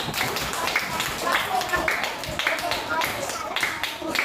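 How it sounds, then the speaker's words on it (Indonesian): Students in a classroom clap their hands together in dense, continuous applause, a steady crowd of overlapping claps close and fairly loud, with some voices mixed in. "tepuk tangan dulu untuk semuanya"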